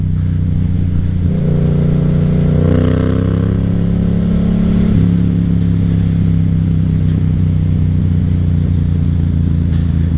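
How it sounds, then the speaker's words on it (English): A Yamaha FZ07 motorcycle engine while riding, loud and close, a continuous deep drone whose pitch rises briefly as throttle is added and then settles to a steady hum. "Man, this bike sounds so angry at all times"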